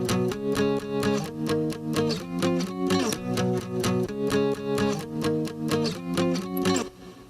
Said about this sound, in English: So what I decided to create was this type of guitar that I put on top